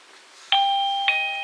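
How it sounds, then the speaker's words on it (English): Two-tone electronic chime from a Mubview video doorbell after its bell button is pressed, a clear ding at the start and a second tone about half a second later, both held and ringing out, close and fairly loud in a quiet room. "Press the bell button and tap next."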